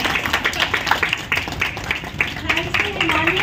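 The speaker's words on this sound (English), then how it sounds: "Clap for everyone." A group of people claps together at a meet-up party in Noida, a brief burst of scattered, moderately loud applause mixed with a voice talking over it.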